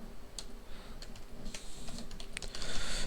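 Fingers type on a computer keyboard in quick, irregular bursts of close, light key clicks, fairly quiet with no voices.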